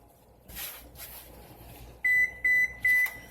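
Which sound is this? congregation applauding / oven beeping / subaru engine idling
oven beeping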